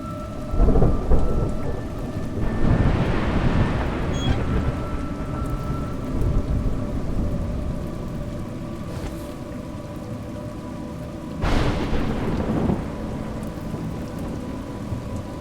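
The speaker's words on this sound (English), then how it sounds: "It's raining." Steady rainfall in the video game A Juggler's Tale, with two deep rolls of thunder, one early and one near the end, under a constant low hum.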